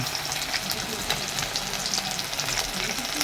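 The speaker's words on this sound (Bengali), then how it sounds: "নোড়ালা মাছ গরম গরম আর গরম সরি গরম তেলে গরম তেলে দেয়া আছে" Norala fish frying in hot oil at a fair stall at a Kali temple fair in Shyamnagar, giving a steady, dense sizzle that holds for a few seconds at close range, with no talk over it.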